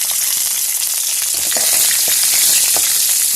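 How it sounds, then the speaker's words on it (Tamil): Dried red chillies, small shallots and garlic cloves frying in a pan after urad dal for a vallarai keerai thuvaiyal, giving a steady close bright sizzle with faint scattered crackles and no talk. "எல்லாம் நல்லா ஃப்ரை ஆகிட்டு அது கூட காஞ்ச மிளகா சின்ன வெங்காயம் ரெண்டு மூணு பல் பூண்டு பல்"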